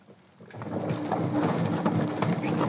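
Water spraying hard out of a Brandt washing machine under repair, a broad hissing rush that swells up after a quieter start and holds steady and close.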